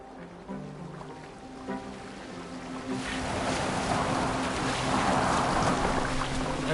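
A boat moving across water in a video game: quiet lapping and hum at first, then a louder, steady rush of water and wind that builds and holds.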